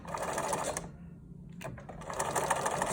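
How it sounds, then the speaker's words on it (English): An old Bernina sewing machine stitches the pleated edges of a fabric face mask, running in steady fast bursts close by with a brief pause in the middle. "My trusty ancient Bernina machine here."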